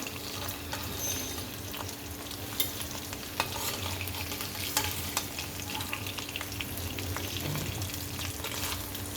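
Pieces of boal fish frying in oil, giving a continuous close sizzle and crackle with a few sharp pops and light clinks throughout.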